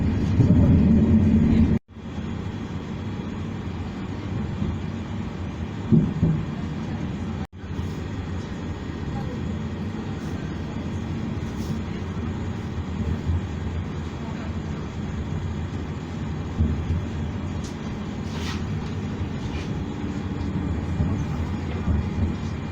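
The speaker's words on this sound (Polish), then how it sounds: "Pociąg zbliża się do stacji." A Koleje Śląskie train rumbles steadily from inside, a continuous low rolling drone with occasional brief bumps as it slows on approach to Gliwice station.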